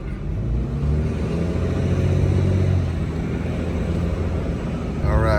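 A truck engine hauls a loaded 24,000 lb GVWR hooklift trailer up a steep street, giving a steady, loud low-pitched drone that holds throughout with a slight lift near the end.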